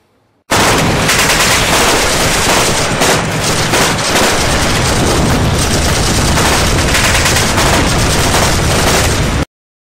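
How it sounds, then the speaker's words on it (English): Loud, sustained gunfire rattles in a dense continuous burst like a machine gun, starting abruptly and cutting off sharply after about nine seconds. "The target heard gunfire and ran off."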